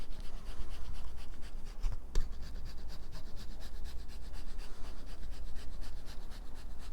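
Pecorino romano cheese grated by hand onto a Roman-style pizza, a steady close rasping scrape that continues evenly throughout with one brief sharper scratch partway through.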